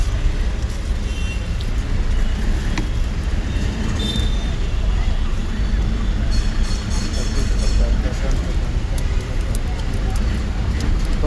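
Metro train rumbling past at close range, a steady loud low roar with rail clatter throughout, while people talk over it.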